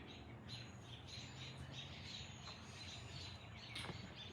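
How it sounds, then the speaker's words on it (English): Birds chirp and squawk outdoors against a steady hiss of background noise, with calls scattered throughout. "can you hear the birds? They're like right out there."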